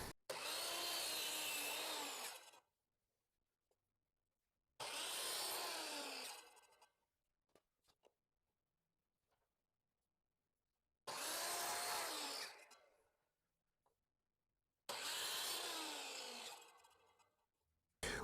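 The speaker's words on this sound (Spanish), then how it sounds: "colocar nuestra máquina, nuestra sierra de inglete o guillotina en el ángulo de corte de 10 grados. Y vamos a colocar nuestras piezas y vamos a ir cortando" A miter saw cuts wooden pieces at a 10-degree angle in four loud, separate bursts of about two seconds each, with near silence between cuts.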